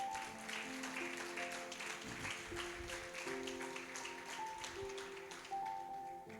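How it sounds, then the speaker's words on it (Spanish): A church congregation claps along steadily through a worship service, the dense patter blending with sustained keyboard or organ chords and faint voices. "Dele un aplauso al Señor."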